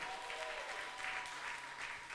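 A church congregation applauds during a Swahili sermon, a steady, dense clatter of many hands clapping together for about two seconds, with no voices rising above it.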